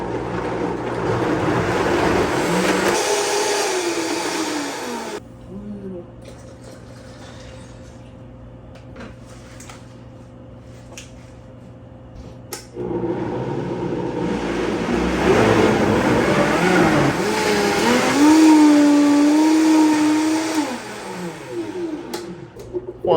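A blender roars loudly while pureeing a green mole verde sauce of parsley and cilantro, stops for a quiet stretch, then whirs up again with a rising, straining pitch.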